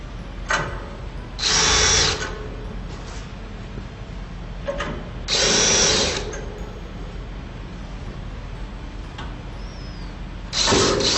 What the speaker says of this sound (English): And now we'll put the screws back in.